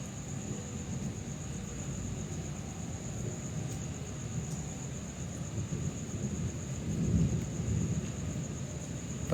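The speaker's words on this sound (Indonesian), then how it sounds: "Petir kak, itu petir kak." Thunder rumbling amid steady rain at a public cemetery, a continuous low roar with a swelling rumble near the end, loud and close with no talk over it.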